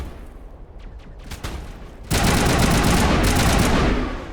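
Gunfire in the Mass Effect video game, with scattered shots early on, then a loud, dense burst of sustained fire that breaks out halfway through and continues close up.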